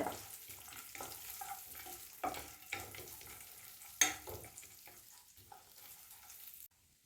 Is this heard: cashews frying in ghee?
yes